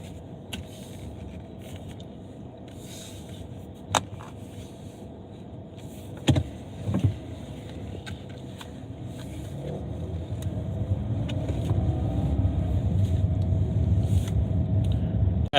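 A car drives along with a steady low rumble of road and engine noise throughout, a few soft clicks and knocks from inside the cabin, and the rumble swelling gradually louder toward the end.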